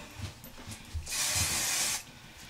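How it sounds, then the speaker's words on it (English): A spray bottle mists hair with one sustained hiss lasting about a second, close and fairly loud, after a few soft handling clicks and taps. "I'm gonna lightly mist this."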